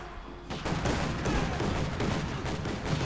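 Gunfire in Company of Heroes 2, a dense battlefield fusillade of overlapping rifle and machine gun shots after a quieter opening, with booms under the chatter.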